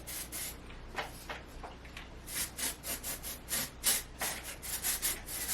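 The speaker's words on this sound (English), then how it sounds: "I will hold my hair out like this and spray upwards" Hair texture spray is aimed upward into long hair in a string of short, close hissing bursts that come faster toward the end.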